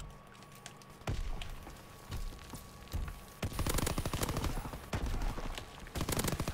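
Rapid gunfire in Call of Duty WW2, the online shooter: bursts of automatic fire and sharp shots in quick clusters, with a short quiet gap before heavier sustained fire near the end.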